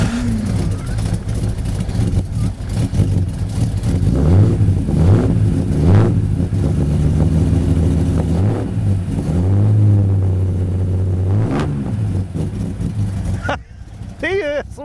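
A classic car engine with an English exhaust system revs up and down in repeated surges over a steady rumbling idle, loud and close, with people talking over it.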